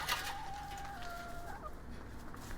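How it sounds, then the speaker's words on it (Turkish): Five hens cluck and murmur softly over a steady noisy background, one drawn-out call standing out briefly. "5 tane tavuk aldık."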